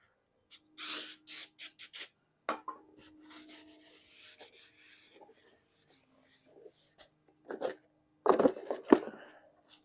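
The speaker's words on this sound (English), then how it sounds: "we're gonna spray it with some brake clean to get rid of the coating" Short hissing bursts of brake cleaner sprayed on a Nissan Infiniti brake rotor, several quick blasts with quiet gaps and faint rubbing between, close by.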